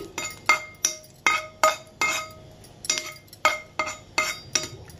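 A plate is picked up and handled, giving about a dozen sharp ringing clinks in a quick irregular series, each bright and close, with a quiet background between them.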